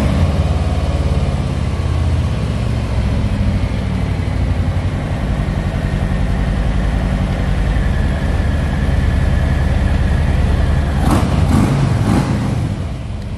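A 2020 Harley-Davidson Softail Low Rider S with a 114 engine runs at a steady, loud idle, giving off a low rumble that stays even the whole time, with a few brief clicks near the end.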